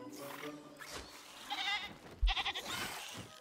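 A goat bleats in the dinosaur park video game Jurassic World Evolution, with a wavering, pulsed cry rising and falling over a few seconds against background game noise.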